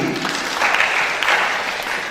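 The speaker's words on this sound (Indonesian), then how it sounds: "Tepuk tangan buat Pak Ahmadi" Audience clapping for Pak Ahmadi during a business mentor training session: a short burst of steady, fairly loud applause from a small group, continuing evenly throughout.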